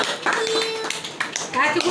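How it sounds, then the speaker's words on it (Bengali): Short bursts of hand clapping at a child's birthday cake-cutting, mixed with overlapping voices talking and calling out close by. "সবাই একটু ক্ল্যাপ করো হাততালি হাততালি দিলাম তো"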